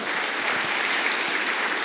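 Church congregation applauding together at a revival service, a dense, steady wash of clapping held at an even level from start to finish with no voices standing out.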